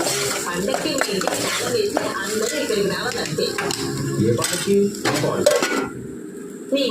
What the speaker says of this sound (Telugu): ఒకసారి కలిపి మళ్ళీ మూత పెట్టేసుకోండి.